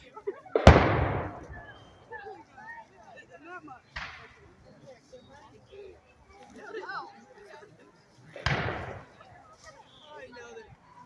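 Reenactment artillery cannons fire at Fort Massac: three loud, booming blasts spaced several seconds apart, each ringing out and fading, with people talking and calling in the background between shots.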